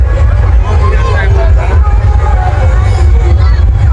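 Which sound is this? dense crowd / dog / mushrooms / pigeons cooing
dense crowd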